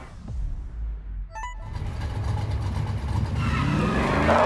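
A car in the racing video game Need for Speed Heat revs and accelerates, its engine note climbing in pitch and loudness over a few seconds after a short electronic chime, with tire and road noise building beneath.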